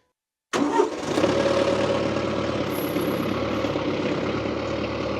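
A tractor engine with its PTO is started from silence, catching abruptly and settling into a steady, loud, close idle that runs on alone without any talk.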